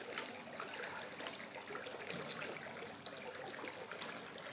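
Water swept across a pool surround with a Wagtail water-fed brush gives a steady wet hiss and trickle, with no voices, lasting the whole stretch.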